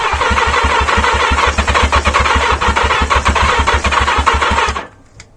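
A 1980 Yamaha XJ650 motorcycle engine cranks over and over with a steady, rapid starter rhythm, loud and close, trying to catch on fuel left in the carburetors before cutting off abruptly.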